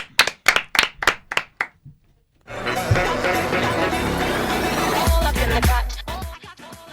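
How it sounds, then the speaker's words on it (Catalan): An audience breaks into loud, dense applause, with a burst of cheering and chatter mixed in, after a few sharp hand claps and brief talk; the clapping runs for several seconds and then trails off. "Un aplaudiment"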